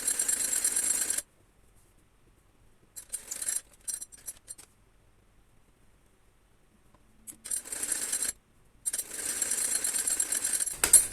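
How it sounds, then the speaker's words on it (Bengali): A sewing machine runs in several bursts as it stitches a strip of cloth onto a child's top, a rapid loud mechanical chatter broken by short silent pauses. "নিয়ে গিয়ে তারপর একটা চাপ সেলাই দিব"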